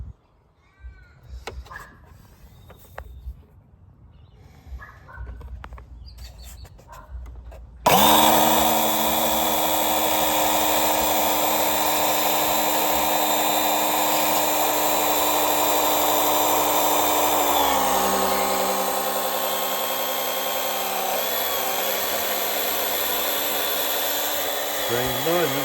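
Pump sucking oil out of a Subaru Forester during an oil change: after scattered quiet handling noises, a loud steady motorized whine kicks in abruptly and runs on continuously, shifting pitch slightly partway through.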